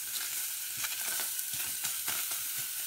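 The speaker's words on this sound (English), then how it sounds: "I just wanted to kind of dry saute it a little bit" Vegetables dry sautéing in a pan with no oil for a thick, creamy chowder, giving a steady soft sizzle with scattered scraping stir clicks, close and alone with no talk.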